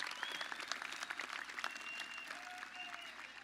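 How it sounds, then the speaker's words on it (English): Graduation audience at a high school ceremony applauding scholarship recipients, a steady wash of clapping from a large crowd heard at a distance, fairly soft and even throughout. "Let's have a round of applause for these scholarship recipients."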